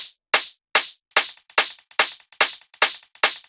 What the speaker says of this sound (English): So we're layering this 909 closed hi-hat,